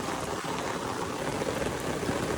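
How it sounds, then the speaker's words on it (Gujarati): Steady monsoon rain pours down continuously beside flooded farm fields in Gujarat, a dense hiss of drops hitting surfaces close by, with no voices. "અત્યારે સવારના 10:30 વાગી રહ્યા છે, તો પણ હજુ વરસાદ આવ્યા જ કરતો છે"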